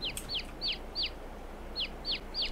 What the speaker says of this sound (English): See, that's the noise a chicken makes.